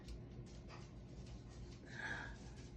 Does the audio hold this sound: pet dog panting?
yes